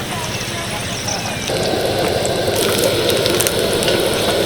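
Tiffin snacks fry in a pan over low heat with a constant sizzle that grows a little louder partway through and keeps going steadily.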